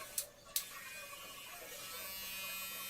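Electric hair clippers with a number 2 guard in the open position buzz steadily and close while cutting a low bald taper, opening with two sharp clicks before a continuous whirring hum.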